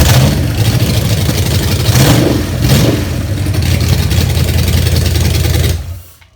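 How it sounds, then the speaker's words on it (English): A Gen III Hemi V8 fitted with factory components fires up on an engine run stand and runs loud and rough for several seconds, with a couple of throttle blips, before cutting off abruptly at the end. "getting that engine to fire up on that run stand"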